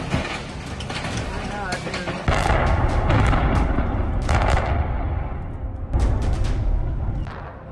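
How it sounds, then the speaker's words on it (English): A building demolition blast and collapse rumbles loudly, with heavy booming crashes and a thick continuous roar of falling structure punctuated by sharp bursts, as people talk over it. "The most impressive thing isn't the explosion, but how the entire structure collapses in a predetermined direction instead of falling randomly."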